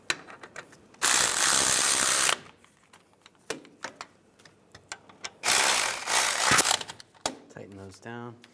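A hand ratchet spins caliper bolts on a 1995-2001 Ford Explorer front brake: two long, loud, close clicking runs separated by small clinks and tool handling, with a brief voice near the end.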